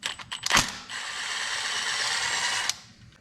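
Ratchet clicking steadily as it backs out the crankcase half bolts on a Kawasaki Brute Force 750i ATV, close and continuous for a couple of seconds after a sharp metallic knock.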